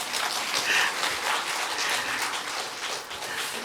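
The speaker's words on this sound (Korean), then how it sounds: "이쯤에서 박수 한번 나와요" Audience applause in a church during a Sunday morning service, a dense, even wash of many hands clapping at moderate distance, steady throughout with no speech over it.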